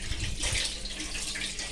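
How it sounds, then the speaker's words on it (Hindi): Running water splashes steadily while a gas stove is washed, a close, continuous gushing and spattering with slight surges. "इसलिए मैं रोज़ अपना गैस धुल देती हूँ"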